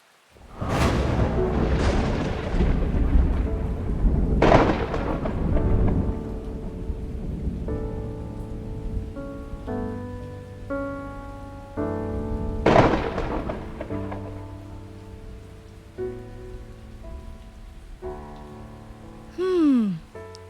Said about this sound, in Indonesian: Hujannya deras sekali.